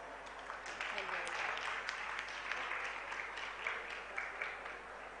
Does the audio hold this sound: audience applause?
yes